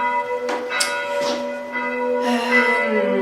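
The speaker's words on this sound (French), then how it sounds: "les cloches, on a compris" Church bells ringing out at seven in the evening, a steady run of bright overlapping strikes with a long resonant hum sustaining beneath, fairly close and loud with no talking.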